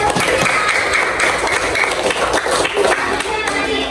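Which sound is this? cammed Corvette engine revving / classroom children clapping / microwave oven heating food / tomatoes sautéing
classroom children clapping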